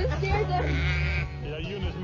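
Sheep bleat in reply to a call, a wavering animal cry running under steady talk from a person close by, with a short sharper sound at the end.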